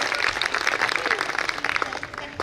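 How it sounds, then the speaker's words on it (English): A crowd claps and applauds continuously at a school annual concert, a dense patter of hands filling the room at moderate loudness. "So give them a huge round of applause. Clap for them."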